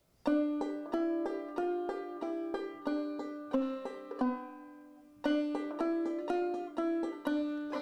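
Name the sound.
clawhammer banjo melody with fifth string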